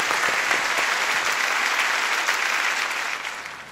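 Studio audience on a Turkish arabesque music show breaks into loud, dense applause, a sustained wash of clapping that holds steady and then tapers slightly at the end.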